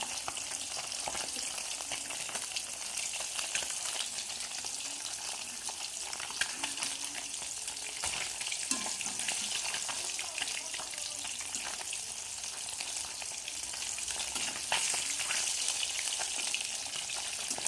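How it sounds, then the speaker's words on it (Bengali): Pieces of katla fish fried one at a time in a small wok, giving a dense, steady sizzle that holds throughout with only faint clinks now and then. "আমার কড়াইটা যেহেতু ছোটো, এর জন্য আমি এক পিস করে ভাজছি মাছ"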